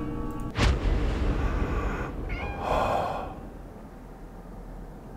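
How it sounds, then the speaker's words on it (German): A cat in the video game Conarium lets out a drawn-out meow over a dense, rumbling game ambience, followed by a softer sighing breath as the background drones on. "Alter, eine Katze. Ich hasse Katzen."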